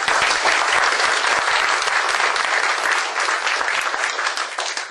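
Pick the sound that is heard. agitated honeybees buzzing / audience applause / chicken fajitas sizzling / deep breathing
audience applause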